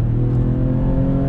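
A 2001 BMW 330i E46 with a six-cylinder engine accelerating on a highway, a steady, loud, droning engine hum with strong low harmonics heard from inside the car, without talk.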